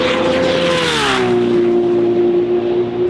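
Turbocharged Honda drag race cars launching down the strip, a loud sustained engine roar with the pitch climbing and then settling into a steady high drone.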